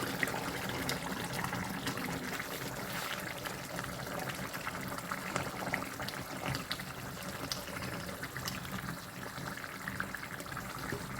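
A mix of curd and spice masala with chilli powder and coriander powder is poured into a pot, making a steady, continuous liquid pouring and gushing sound that runs unbroken throughout.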